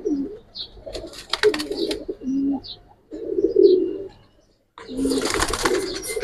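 Giribaz pigeons from Old Dhaka coo in short, throaty bursts near at hand, with gaps and near silence between them, a few sharp clicks and flutters in between.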